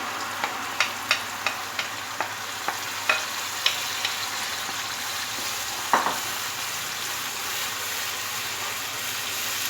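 Masala and ground tomato fry in a pan with a constant, even sizzle. Sharp taps from a spoon against the pan ring out roughly every half second during the first few seconds as the mixture is stirred.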